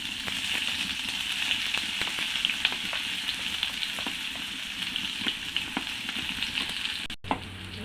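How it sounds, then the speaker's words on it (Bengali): Chopped onion hits hot oil with nigella seeds for a vegetable chop filling, setting off a loud, continuous close sizzle with scattered sharp crackles, then a brief dropout near the end. "দিয়ে দেবো এই পেঁয়াজ কুচি"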